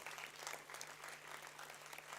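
Steady applause from a convocation ceremony audience as a gold medal winner is announced, a continuous dense patter of many hands clapping at a moderate, fairly distant level for about two seconds.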